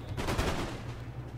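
Musket volleys from Napoleon Total War crack out in a ragged burst of overlapping shots, loud at first and then trailing into a rumbling, fading roar of distant fire.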